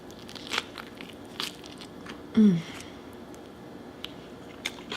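Eating during a mukbang, a few crisp bites and crunches of food close to the microphone, with one louder crunch midway and brief chewing noises scattered around it, without talk.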